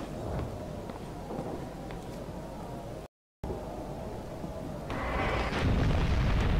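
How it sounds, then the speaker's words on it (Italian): A deep, rumbling explosion in the video game Bioshock Infinite swells into a louder roaring burst toward the end, heavy and booming, with no speech. "Boom, è esploso qualcosa."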